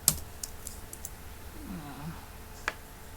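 Computer keyboard keys pressed while working in an Excel spreadsheet: a few scattered sharp clicks at close range, one louder tap near the end, with faint room hum and no talking.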